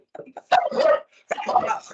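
Dogs barking indoors, a few short close yips and barks in quick bursts separated by brief gaps.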